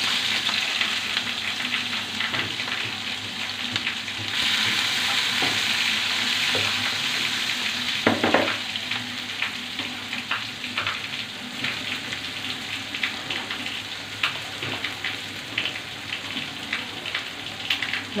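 Ingredients for a Bengali rohu fish kalia fry in hot oil with a loud, steady sizzle that runs throughout, broken by occasional stirring scrapes and clatter, close by with no talking.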